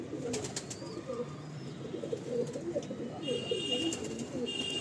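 Several loft pigeons coo in overlapping low burbling calls, close and continuous, with a few sharper clicks and faint higher chirps on top.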